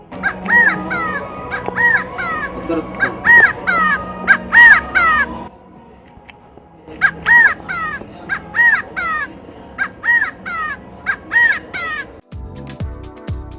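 A toy's electronic bird call repeats in rapid, regular, harmonic chirps, pauses briefly, then resumes, ending with a buzzy electronic tone.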